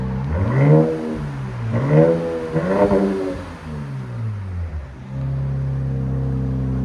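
A 2025 RAM 1500 pickup with the 3.0L twin-turbo Hurricane inline-six and straight pipes revs loudly and close by in three rising-and-falling blips, then settles into a steady, deep idle drone.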